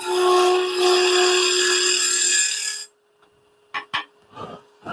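A drill bores into a small wooden scoop spinning on a woodturning lathe, giving a loud steady whine for about three seconds that stops abruptly, followed by a few short scraping and knocking sounds.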